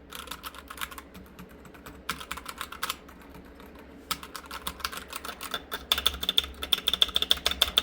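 Keys clatter in bursts of rapid, close clicks on a computer keyboard, with brief pauses between runs and a denser, louder stretch toward the end, no voices present.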